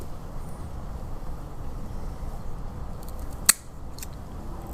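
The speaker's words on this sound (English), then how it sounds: "I need to cut that a little bit more." A single sharp snip of a cigar cutter clipping a Casa Cuevas Connecticut cigar, one brief loud click standing out against steady low background rumble, with no talking.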